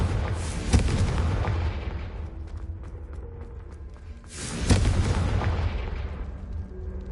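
Confringo fire spell blasts in the Hogwarts Legacy video game: two loud booming explosions a few seconds apart, each with a sharp crack and a long rumbling tail, over steady game ambience.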